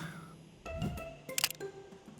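Camera shutter firing a half-second exposure outdoors in San Francisco, heard as a soft click opening and a second crisp click closing about half a second later, close and fairly quiet over low street ambience.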